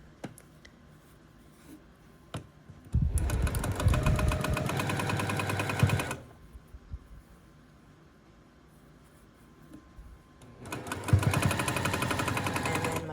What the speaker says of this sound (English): I'm going to start just by flipping this over and sewing this together.